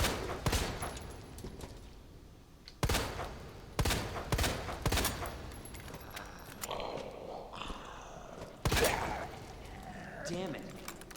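Shotgun blasts in the game Resident Evil 2, several loud separate booms spaced a second or two apart amid game noise, with someone talking between the shots.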